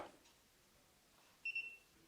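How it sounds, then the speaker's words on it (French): An iopool Bluetooth-connected pool probe emits a short, clear electronic beep, faint and close, in an otherwise quiet setting. "Là, on a eu un bip"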